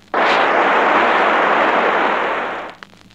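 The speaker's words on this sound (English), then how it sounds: "Unfiltered white noise." A loud burst of steady hiss starts abruptly, holds flat for a few seconds, then cuts off.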